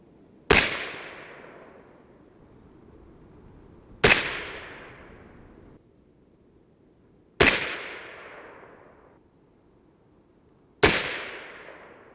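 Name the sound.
rifle gunshots, 6.5 Grendel with Reloader 15 load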